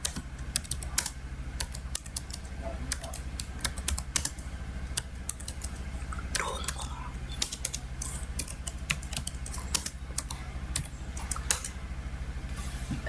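Keys clatter steadily on a computer keyboard as a command is typed into an Ubuntu server terminal, a quick irregular run of clicks over a low constant hum, with no talking.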